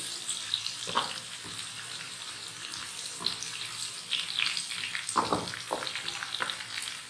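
A tempering of garlic, onion, black peppercorns and curry leaves fries in hot oil for Gujarati kadhi, giving a steady, fairly quiet sizzle with scattered sharp crackles and pops and no talk.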